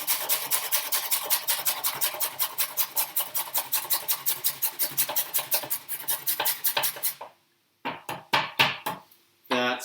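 A carrot rubbed back and forth on a grater in a home kitchen, giving a fast, even run of rasping strokes that slows and breaks into a few separate scrapes near the end.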